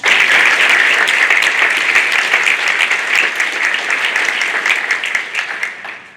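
An audience at the Edison Academy Magnet School Class of 2024 graduation applauds an award with dense, steady clapping that holds loud for several seconds, then tapers off at the end.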